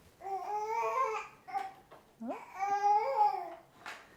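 A baby babbles and coos in short, sing-song bursts with brief pauses between them, fairly close by.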